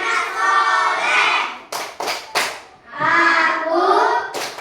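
Children perform the 'tepuk anak soleh' clap chant, their voices chanting in sung phrases punctuated by a few sharp, distinct hand claps in a quick rhythmic group and one more at the end.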